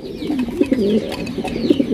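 A male and female pair of pigeons coo in soft, low, throaty rolling calls, close by, with a few overlapping phrases in quick succession.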